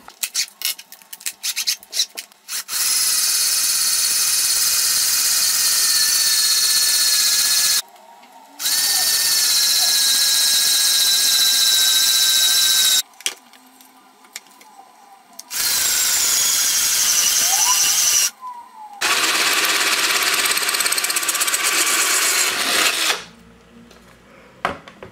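A loud, steady power drill grinds through glass in several long bursts with short pauses between them, the pitch sliding slightly as the bit bites in.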